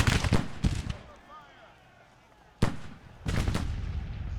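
Booming artillery shots from a Civil War–style battle in the video game GTCW, several sharp loud blasts in clusters separated by a quieter stretch, with a voice speaking in the gaps.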